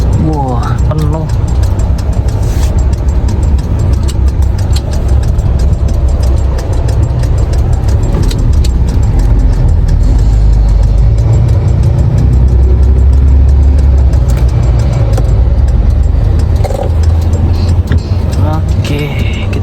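A car engine idles and creeps along in heavy traffic while parking, a loud continuous low rumble with road and cabin noise, and people talk throughout.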